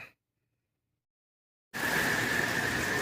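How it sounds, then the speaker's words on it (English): Steady rain on a Florida afternoon, starting abruptly after a silent gap and then continuing as a dense, even wash with a faint high tone, close and alone without talk. "Another rainy Florida afternoon."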